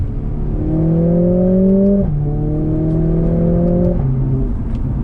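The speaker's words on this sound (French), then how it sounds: "le seul moment où ça fait un très beau bruit, c'est là quand tu changes, quand tu montes en vitesse" A Mercedes-AMG A45s engine revs loudly and climbs through the gears, its tone rising steadily before dropping sharply at each upshift, two clear shifts heard close up.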